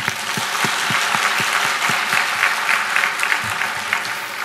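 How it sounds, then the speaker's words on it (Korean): A church congregation at a New Year's Eve service claps for the choir, dense and loud applause with distinct sharp claps standing out through a continuous wash of hands. "우리 찬양대 모두에게도 격려하며 한번 박수 주시기 바랍니다"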